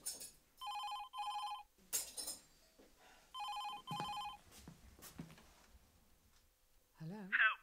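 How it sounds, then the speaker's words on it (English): A telephone rings in a horror film, with two pairs of bursts of electronic ring tones separated by pauses, followed by a few clicks and a short distorted voice at the end. "One day, I got this strange phone call."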